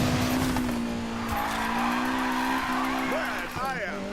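A drift car in Need for Speed Payback holds a steady engine drone through a long slide, with short tire squeals breaking in near the end. A voice talks over it.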